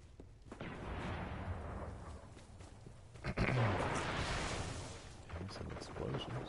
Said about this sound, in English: And some explosions.